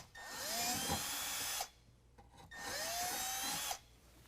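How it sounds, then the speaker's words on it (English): A power drill with a 1/8 inch bit and cutting oil bores into the rocker panel of a 2020 Ram 2500 truck in two close, loud whining bursts of about a second and a half each, separated by a short pause. "I've got my 1/8" drill bit."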